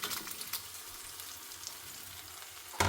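Chopped tomatoes sizzle in a hot pan of onion masala for a chicken roast gravy, a steady crackling fry with a few stirring scrapes and a louder hiss at the end.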